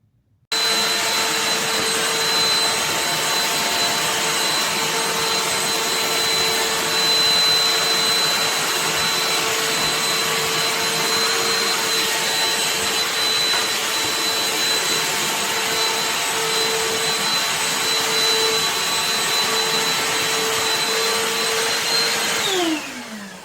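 A BLACK+DECKER dustbuster 20V cordless handheld vacuum runs loud and close for over twenty seconds with a steady high whine, then winds down as it switches off at the end.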